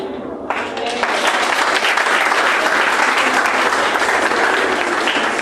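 Loud, sustained audience applause in a church fills the space after a brief quiet opening and keeps a steady, dense clapping texture until the end.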